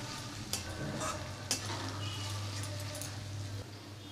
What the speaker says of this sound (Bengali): পেঁয়াজটাও ফ্রাই হয়ে গেছে।